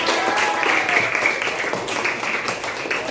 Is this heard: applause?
yes